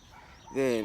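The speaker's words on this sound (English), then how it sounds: "apologies for the dog barking in the background." A dog barks once in a public park, a short loud close yelp rising over quiet background noise.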